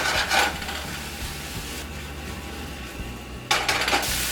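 A spatula scrapes and rubs through paneer stir fry with spice powder in a kadai, giving soft repeated rasping strokes with a couple of louder scrapes at the start and near the end.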